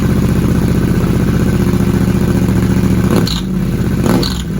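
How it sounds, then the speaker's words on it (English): Yamaha Tenere 700 fitted with a Camel ADV high-mount exhaust, silencer plate in place without the internal pipe, revving steadily at close range with a loud continuous engine drone and two brief throttle blips near the end. "Now the silencer plate with no internal pipe."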